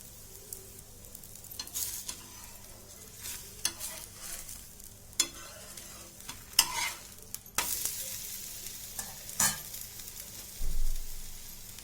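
Wheat flour dhirde batter frying in oil in a pan, a soft steady sizzle with occasional louder spatters and a scrape or two from stirring, heard close and alone.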